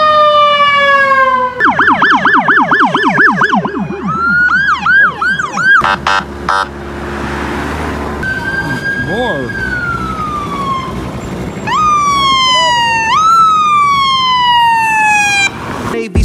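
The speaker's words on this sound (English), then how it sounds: "Ambulance." A loud wailing ambulance siren sweeps up and down, switching between fast yelp and slower wail patterns, close by and dominating the scene with a brief spoken word.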